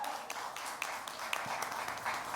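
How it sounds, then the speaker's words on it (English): Dense applause from a crowd at a Netflix series trailer launch event, a steady wash of many clapping hands with a few sharper claps and some cheering mixed in. "let's make some noise and welcome them with a thunderous round of applause"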